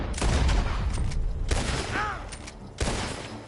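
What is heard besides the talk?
gunshots in the video game Red Dead Redemption 2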